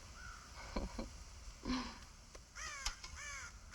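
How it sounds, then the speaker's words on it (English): Crows caw in Red Dead Redemption, several harsh calls spread across a few seconds at moderate distance, with a quick run of rasping caws near the end over a faint ambient background. "God damn crows!"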